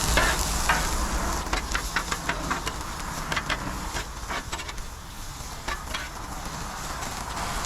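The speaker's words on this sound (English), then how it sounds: "Get some of these onions. Saute those up nice and good." Onions sauté on a Blackstone griddle, a continuous crackling sizzle close up with scattered sharp pops and spatula scrapes throughout.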